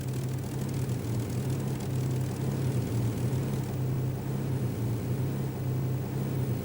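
A Curtiss Kittyhawk propeller fighter's engine runs on the ground at a steady, throbbing drone, loud and continuous with a pulsing low rumble throughout.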